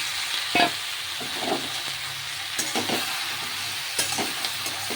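Ridge gourd fries in a pan with onion, chili and poppy seed paste. A continuous sizzle is broken by several distinct scraping stirs and clacks of the spoon against the pan, with no voices.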